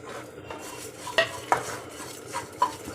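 Fenugreek, dry chillies, cumin and fennel are stirred in a pan for amla pickle, with a soft sizzle under a few sharp scrapes and clinks of the spoon against the pan.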